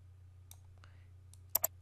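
A computer mouse clicks while text is moved in Adobe Illustrator: a faint tap early on, then two quick, sharp clicks near the end, heard close over a steady low electrical hum with no talking.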